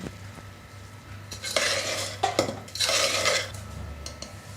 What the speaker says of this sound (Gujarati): ઉપર આપણે થોડી કોથમીર ઉમેરીશું અને બરાબર મિક્સ કરી લઈએ